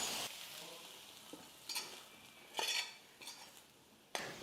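A few soft scrapes and spoon clinks sound close by as sautéed onions are added to paniyaram batter, separated by quiet pauses.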